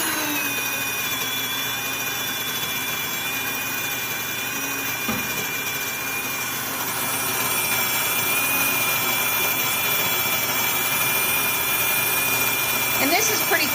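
Electric grain mill grinding millet and sorghum in a home kitchen, a steady loud motor whine and grinding hum running continuously throughout, close by.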